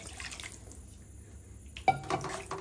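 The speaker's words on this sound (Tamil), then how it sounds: "கிரேவிக்கு தேவையான அளவுக்கு தண்ணி ஊத்திருக்கேன்." Water is poured into a pan of paneer butter masala gravy, a soft, steady splashing stream that stops and gives way to a clink of a utensil against the pan and faint stirring.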